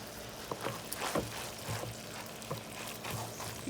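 Marinara sauce poured and stirred into a drained sausage and hamburger mixture for lasagna, giving soft wet glops and sloshing scrapes that come and go at a low level, with no voices.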